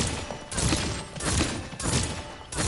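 Io's fast-firing crossbow-like weapon in a video game, repeated volleys of quick shots in pulsing bursts about every half second, loud and close, with no voices.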